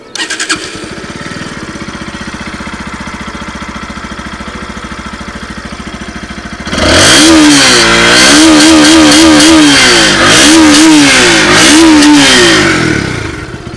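A 2020 Bajaj Pulsar NS160 BS6 motorcycle engine idles with a rattling putter, then roars louder as it is revved repeatedly in rising and falling surges, close by.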